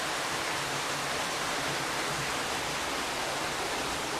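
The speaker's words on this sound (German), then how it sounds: "Das Wasser fliegt aus dem Berg ganz warm und es riecht nach Schwefel." Warm sulphur-smelling spring water gushes out of the mountainside at a natural hot spring in Banff National Park, a steady, dense, close rushing wash with no breaks and no voices.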